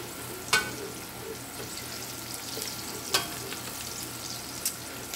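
Onions frying in hot oil in a pan, a quiet steady sizzle with a few sharp stirring clicks and taps scattered through it.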